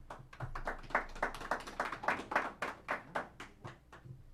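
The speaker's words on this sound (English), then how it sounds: "That's the first time I think I've ever heard an applause at a budget committee meeting" Applause at a budget committee meeting: a run of distinct hand claps from a small group, fairly faint and somewhat distant, rising and falling over several seconds with no talk over it.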